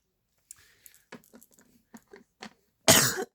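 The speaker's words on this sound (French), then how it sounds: "Désolée, je tousse beaucoup." A few faint mouth and throat noises, then a single loud, harsh cough bursts out up close near the end.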